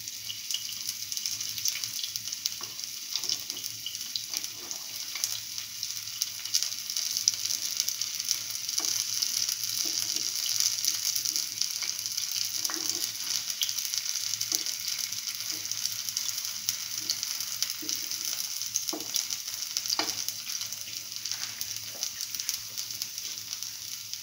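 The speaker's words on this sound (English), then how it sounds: "let it fry further." Okra chickpea fritters fry in hot oil with a continuous, even sizzle, close and steady throughout, broken by occasional small pops and clinks with no talking.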